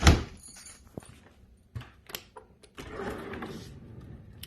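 A kitchen drawer slides open with a thunk and rattle of its contents, followed by a longer scraping and rumbling run of sliding and shuffling, close and moderately loud, with no talk.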